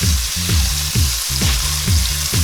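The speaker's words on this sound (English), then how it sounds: "Now I'm searing the sides of the steak" Beef steak pieces sizzle and crackle steadily as their sides are seared in a hot pan for pot roast, a loud continuous fry broken by rhythmic stirring or turning scrapes, with no talk.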